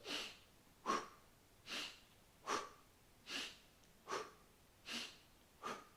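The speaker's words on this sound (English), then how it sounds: "It's an inhale through your nose and sharp exhale through your mouth" Eight rhythmic breaths repeat at an even pace, each a quick nasal inhale followed by a sharp, forceful exhale through the mouth during a breathing exercise, close and quiet with short pauses between.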